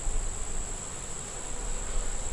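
Honeybees swarm in a steady, dense buzz at a hive that needs help growing, a continuous close hum with a thin high whine running through it and no voices.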